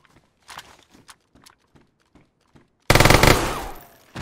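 Gunfire in the video game DayZ: scattered distant single shots and footstep-like taps, then a sudden loud sustained burst of rapid fire that dominates the last second and a half.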